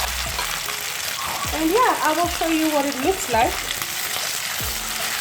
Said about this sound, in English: Your meat is going to sizzle in the pan.